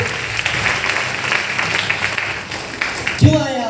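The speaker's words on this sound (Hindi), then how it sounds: "पैसे कमाने के लिए, जोरदार तालियां इनके लिए।" Seminar audience applause, moderately loud and continuous, blends with crowd noise before a voice cuts in near the end.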